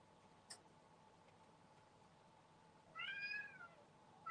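A house cat meows once indoors, a short rising and falling call near the mic, standing out against a quiet room background with a faint click earlier.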